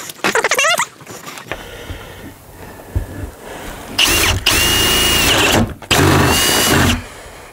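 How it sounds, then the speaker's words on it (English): A power drill struggling in the cold whines in short, uneven bursts, starting and stopping several times with rattling mechanical noise between runs, on a winter morning at a hog watering setup. "so the drill doesn't want to work."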